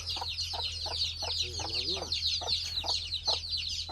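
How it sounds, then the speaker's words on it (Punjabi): Steady high-pitched chirping from many chicks kept under a basket fills the space, a dense continuous peeping with a brief lower cluck partway through. "ਖਾਲੀ ਚੂਚੇ ਚੀਕਦੇ ਵਧੇ ਨੇ ਇੱਥੇ ਤਾਂ"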